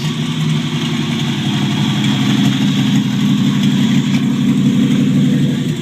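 A 1949 Chevrolet Deluxe four-door idles steadily just after its first start, a loud, close, even engine rumble with a slight lope running without pause.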